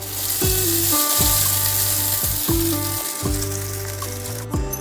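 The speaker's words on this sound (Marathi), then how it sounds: "छान अशी चुरचुरीत फोडणी आपल्याला चटणीवर टाकायची आहे।" Steady, loud sizzling of cumin seeds in hot ghee, with a bright crackling hiss that runs continuously without any voices.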